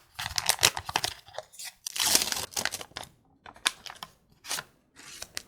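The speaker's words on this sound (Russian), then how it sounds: "Открою вот этот пакетик." Paper packet being torn open up close: a string of crisp ripping and crinkling bursts, separated by short pauses, with one longer tear in the middle.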